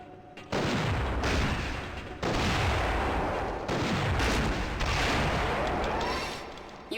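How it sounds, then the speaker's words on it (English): Cluster bomb explosions in the shooter Gunman Chronicles, four loud booming blasts each followed by a decaying rumble, set off against a hologram target on a training range. "set the payload to cluster bomb and throw it at the next hologram target"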